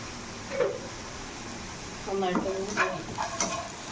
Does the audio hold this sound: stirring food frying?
yes